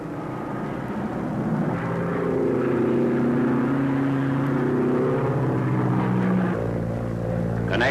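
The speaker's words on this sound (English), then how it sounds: "top-ranking ace is Commander David McCamel, here seen returning to his carrier" A World War II Navy fighter plane returning to its aircraft carrier, with a steady, loud propeller-engine drone that holds throughout and shifts slightly in pitch.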